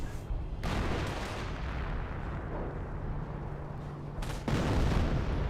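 Landmines detonating in Company of Heroes set off a long, dense rumble of blasts, loud and sustained for several seconds, with a heavier burst at the end and no speech.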